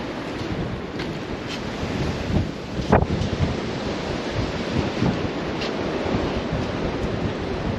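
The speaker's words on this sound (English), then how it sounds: "It's windy out." Wind blows hard outdoors, buffeting the microphone with a continuous low roar and occasional gusts.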